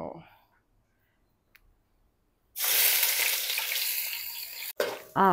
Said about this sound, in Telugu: సో ఆనియన్స్ అయితే వేసేసుకుంటున్నాను